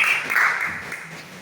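A church congregation at a Sunday service claps in a brief burst of applause that fades out quickly, heard fairly close.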